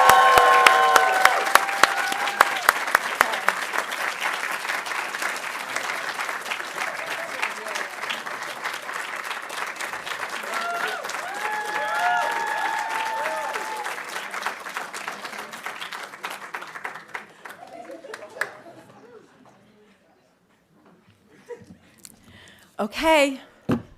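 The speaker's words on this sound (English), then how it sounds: "Let's give them all a real big round of applause." A large audience at an arts awards ceremony claps in a long, sustained ovation with a few whoops, holding steady for over fifteen seconds before tapering off, followed by faint talk and a few thumps near the end.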